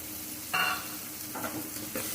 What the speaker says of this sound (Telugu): ఇవన్నీ వేసి ఒకసారి ఫ్రై చేద్దాం